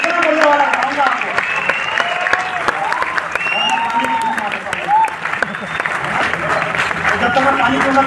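Audience clapping at a success celebration event, a steady dense wash of applause sustained throughout with crowd voices and shouts mixed in.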